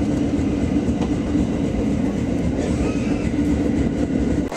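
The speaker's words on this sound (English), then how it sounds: "I just got here and my train's here." A train pulls into a station in Fukui, Japan, with loud, dense rumbling and rolling wheel noise continuing throughout, plus a faint brief squeal partway through, close by.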